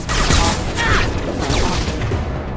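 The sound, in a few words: gunfire in video game Mass Effect 2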